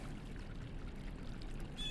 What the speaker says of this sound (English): There's water actually running through there.